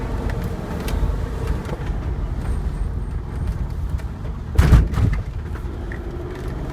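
A Mercedes G400 CDI 4Matic (W463) diesel SUV drives through city streets, its steady low engine and road rumble continuous throughout, with a brief louder thump or bump near the end.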